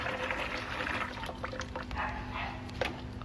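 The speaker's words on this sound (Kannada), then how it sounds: "ಸೊ ಒಂದು ಸತಿ ಸ್ನಾನ ಮಾಡಿಸ್ಕೊಳ್ಳೋಣ." Water splashing and sloshing steadily while live crabs are rinsed and bathed on a crab farm, a continuous wet churn with brief louder splashes, no talking.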